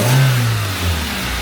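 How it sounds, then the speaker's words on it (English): A Proton Satria GTi engine, just refitted with a coil-on-plug conversion, is revved once in a short blip, loud and close, with its low engine tone rising and settling back toward idle. "Give it a little bit of a rev."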